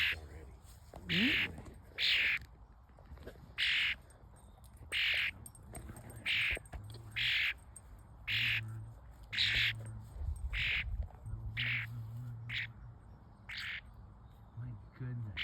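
A bird outdoors gives a repeated series of short, sharp squawks and chirps, evenly spaced about once a second, fairly faint over low background rumble.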